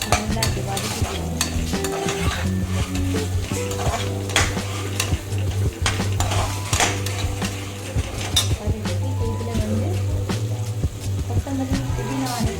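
Carrot and potato sautéing in a pan for mint coriander pulao. A steady sizzle runs under repeated scraping and clinking of a spoon against the metal pan.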